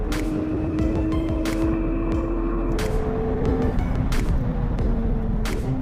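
A McLaren 720S roars away in a runway drag race against a Ferrari 488 Pista and Lamborghini Aventador SV, a steady, distant engine drone whose pitch climbs and shifts, under a constant wind-like rumble.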